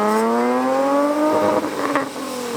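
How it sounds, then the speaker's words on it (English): A Nissan Sylvia S15 drift car accelerating hard with wheel spin, its engine note climbing steeply in pitch and then breaking into rough, scrabbling noise, loud and close with no talking. "Was it wheel spinning or something then?"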